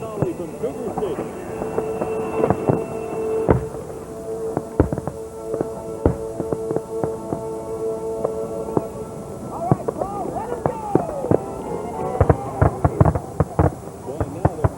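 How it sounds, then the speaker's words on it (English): Fireworks finale over Cougar Stadium on the Fourth of July: a dense, continuous barrage of booming bursts and crackling pops, many overlapping sharp reports and rumbling echoes, heard from a distance with faint crowd and commentary underneath. "gigantic fireworks"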